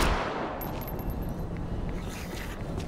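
Gunfire in the video game Dead Island 2, a rapid continuous burst of shots over a dense, noisy backdrop, steady and moderately loud for a few seconds, with no talk.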